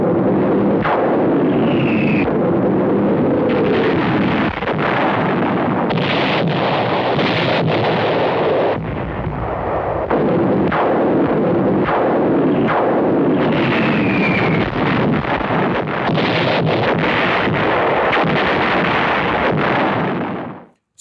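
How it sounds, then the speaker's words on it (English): A massive WWII artillery barrage from the Battle of the Bulge in 1944 rumbles as loud, continuous booms and blasts rolling over one another with a roaring, wind-like background throughout. "Soldiers of the 106th were pummeled by this massive artillery barrage."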